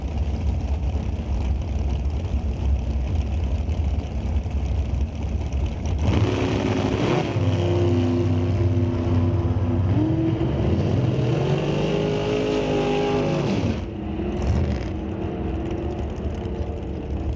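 NHRA drag race cars launch off the line at the Canadian SPORTSnationals, a steady loud engine roar swelling into rising, revving harmonics for several seconds before cutting back to a broad background rumble.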